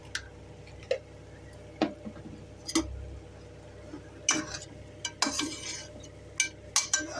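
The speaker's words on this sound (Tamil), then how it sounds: "திருப்பி திருப்பி வேக விட்டுடணும்" Country chicken masala is stirred in a pan, with scattered clinks and scrapes of a utensil against the metal coming in irregular taps over a quiet background and no speech.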